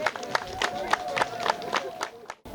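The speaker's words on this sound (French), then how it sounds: "Je voudrais qu'on applaudisse sincèrement la population de Yarikou." A crowd at the yam festival and new royal palace inauguration in Yarikou, Natitingou, claps in a quick, steady rhythm, with voices and a sustained tone mixed in, before it cuts off abruptly near the end.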